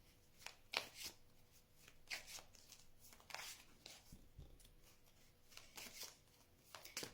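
Tarot cards are shuffled close by in a quiet room, a series of soft riffling and slapping bursts at irregular intervals, faint overall with short pauses between handfuls.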